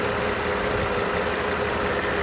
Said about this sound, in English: You can see the engine runs nice